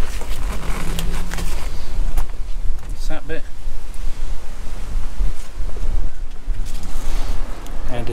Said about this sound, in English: Is windy today.